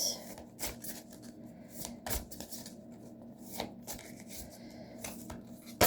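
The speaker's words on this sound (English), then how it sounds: "Let's shuffle these cards." Tarot cards shuffled by hand in a quiet room, giving several soft riffling bursts and light papery slaps spread irregularly over a few seconds, fairly close and moderately quiet, with no talking.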